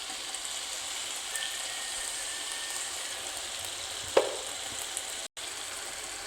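Chicken gravy with tomato sauce sizzles and fries in a pan, a steady bright crackle throughout, with a single stirring scrape near the end.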